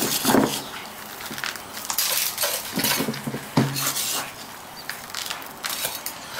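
Bonsai soil mix of pumice, decomposed granite, builder's sand and potting soil stirred in an old wash bucket, giving close, uneven gritty scrapes and clatters in irregular bursts with brief pauses.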